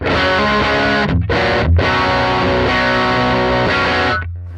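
Overdriven electric guitar on the bridge pickup through a Fractal Axe-FX III 4x10 Bassman preset, jumped channels, playing chords with a gritty, crunchy amp tone, loud and continuous with two brief gaps, ending on a sustained ringing chord.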